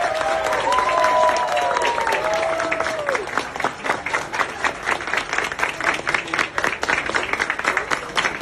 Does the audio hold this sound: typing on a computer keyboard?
no